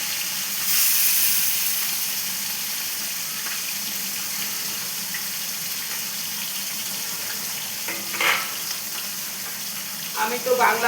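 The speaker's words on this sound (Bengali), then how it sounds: "তো দেখো আমার তেলটা গরম হয়ে গেছে, তো মাছটা আমি এবারে আস্তে আস্তে ঢেলে দেবো।" Fish slid into hot oil for a Bengali fish curry (macher jhol) sets off a steady, bright sizzle that fills the whole clip, with a few louder spatters and bursts near the end.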